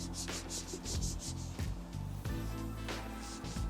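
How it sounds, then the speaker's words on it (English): Tire and trim gel being rubbed onto car trim during winter detailing, a close, steady rubbing and wiping with repeated strokes and no talk. "Now we'll just continue applying tire and trim gel to the rest of the trim."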